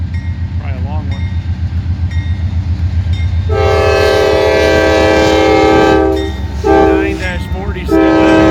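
Freight train in Bellevue hauled by three GE Dash 9-44CW locomotives rumbles closer, then its loud air horn sounds a long blast followed by two shorter ones over the rolling rail noise.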